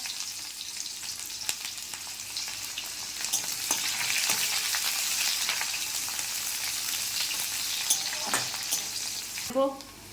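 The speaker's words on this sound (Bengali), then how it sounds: "তেলটা গরম হয়ে গেছে, দিয়ে দেবো আমি পেঁয়াজ।" Onions sizzle and fry steadily in hot oil in a home kitchen pan, a continuous close crackling hiss with occasional stirring clinks, no talk over it.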